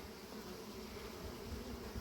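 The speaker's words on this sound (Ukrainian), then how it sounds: "бджола з пилком прилітає" Honeybees buzzing around a hive entrance in early spring as foragers return carrying pollen, a steady, continuous hum at close range with no voices.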